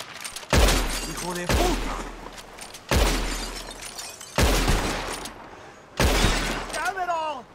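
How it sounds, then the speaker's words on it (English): Gunshots and shattering bottles in Red Dead Redemption 2, coming in four or five sharp bursts spaced about a second and a half apart, with a voice cursing in between. "Whoever shoots more of these bottles wins"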